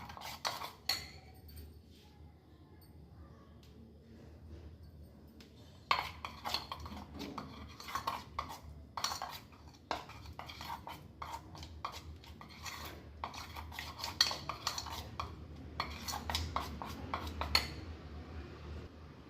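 Henna paste being mixed in a bowl makes a run of scraping, clinking strokes of a spoon against the bowl, close and fairly quiet, quickening into busy bursts of stirring.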